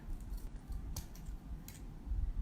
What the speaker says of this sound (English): I'm going to just cut a little strip